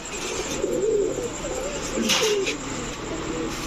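Rajshahi Giribaz pigeons coo in low, repeated warbling calls close by, with a steady background hum under them.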